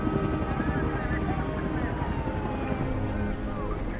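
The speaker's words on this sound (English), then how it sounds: "9 helicopters and 34 ambulances evacuate survivors." At the flaming wreck of United Flight 232, helicopters and ambulances evacuate survivors: a dense, rumbling rotor and engine roar with faint wavering siren wails riding on top, steady throughout.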